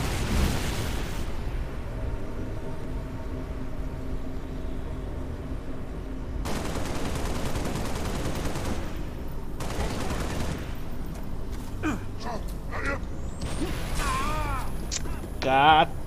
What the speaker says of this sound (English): I'm not even there and the guy is already shooting at me.